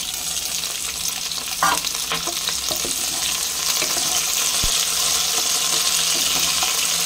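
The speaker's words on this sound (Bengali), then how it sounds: "এবারে এটা ভাজা হোক, এইদিকে এটা ভাজা হোক" Continuous crackling sizzle of potatoes, carrots and beans frying in a pan, fairly close and even throughout, with an occasional faint clink.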